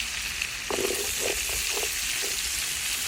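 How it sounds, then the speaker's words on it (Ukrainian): Chicken gizzards and homemade garlic sizzle steadily in a pan over a clay oven fire, a constant bright frying hiss with a few faint stirring clinks, no talking. "І ще трішечки обсмажимо, поки чесничок не віддасть свій аромат."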